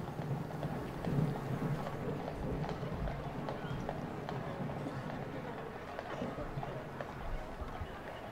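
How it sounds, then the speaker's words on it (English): Horse-drawn carriages crossing the parade ground at the Trooping the Colour birthday parade, with hooves clip-clopping steadily at a distance under crowd murmur and the broad hum of an outdoor ceremony. "First carriages on the parade ground."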